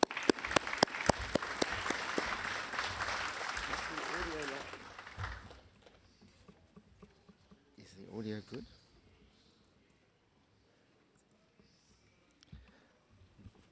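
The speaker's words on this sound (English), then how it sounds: "I think we can applaud Graham." Audience applause at an ophthalmology symposium fills the opening seconds with dense clapping, then fades out, leaving a brief murmur and a quiet hall.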